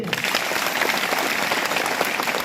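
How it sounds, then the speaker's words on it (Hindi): An audience at a village primary school applauds a girl who captains India's under-17 women's team, dense, steady clapping sustained throughout at a close, even level. "ताली बजाइए।"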